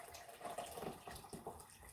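Water pours and splashes into a container holding soaking BFL wool roving, a soft, uneven gurgle with small surges, faint and close.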